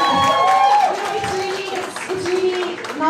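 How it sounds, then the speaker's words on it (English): Studio audience applauding a celebrity couple during a televised interview segment, a mid-level burst of crowd clapping mixed with cheering and a few raised voices, tapering slightly after the opening second. "You guys, how about a round of applause?"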